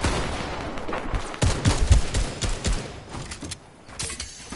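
Two shotgun blasts go off in a Fortnite match on PS5, sharp and loud, surrounded by a busy burst of other gunfire and impacts with no talking.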